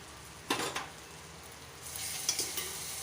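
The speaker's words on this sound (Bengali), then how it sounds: "রান্নার একটু কালারের জন্য আমি এতে এবার কাশ্মীরি লঙ্কার গুঁড়ো 1 চামচি মতো দিয়ে দিচ্ছি" A browned spice masala fries with a spoonful of Kashmiri chili powder, a soft steady sizzle with a few quick utensil scrapes and taps against the pan, the hiss swelling toward the end.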